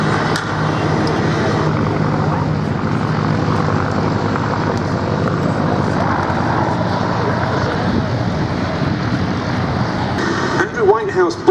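A historic ex-RAF search and rescue helicopter, retired in 1981, flies at the 2021 Duxford Battle of Britain Air Show, its loud, steady engine and rotor drone filling the air throughout.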